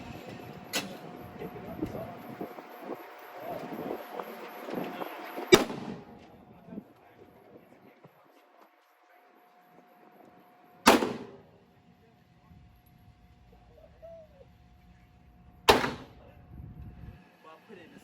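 Three loud, sharp Glock 23 pistol shots at an indoor gun range, spaced several seconds apart, each with a short ringing decay, following a stretch of background chatter.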